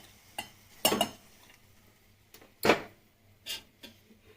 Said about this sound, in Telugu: పెరుగులో వేసేస్తున్నానండి తాలింపు